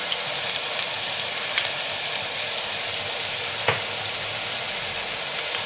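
Tangra fish curry frying in a pan as chili paste goes in, a loud, even sizzle that runs throughout with a couple of faint clinks from stirring.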